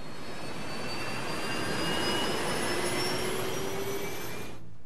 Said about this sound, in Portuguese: Os motores a jato contêm turbinas que produzem diferentes sons, dependendo da velocidade que estão girando.